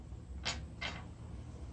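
A metal latch on display in a historic hardware shop is handled and gives two short, close creaks about half a second apart over a low steady room hum.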